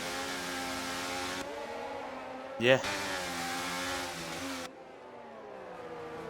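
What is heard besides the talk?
race car engine revving in a sim racing video game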